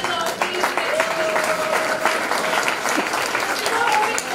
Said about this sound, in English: So a big round of applause to the teachers of the